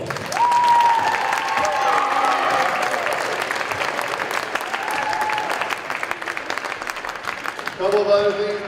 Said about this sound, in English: Now let's give them all a big round of applause.